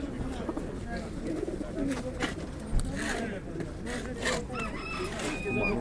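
Pigeons coo and other fowl cluck amid a busy, crowded bustle at a pigeon market in Łomża, Poland, with people talking nearby throughout.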